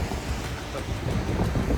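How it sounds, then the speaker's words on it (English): Strong wind buffets the microphone during a walk through Eisenhower Park on a very windy day, a loud continuous rumbling roar with gusty surges and no pauses. "Oh, the wind is strong."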